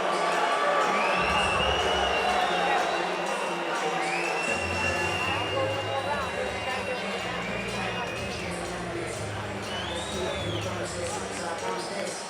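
Arena crowd at a Bellator 228 MMA event jeering Darrion Caldwell's histrionics after his fight with Henry Corrales, a steady loud roar of boos and shouts filling the whole stretch with scattered whistles rising above.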